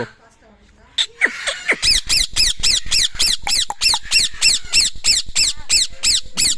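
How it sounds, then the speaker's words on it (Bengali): A tame talking parakeet gives a quiet note, then a run of about sixteen loud, harsh, evenly spaced squawks close by, each a sharp burst. "এটা কিন্তু সুপার টেম করার টিয়া পাখি"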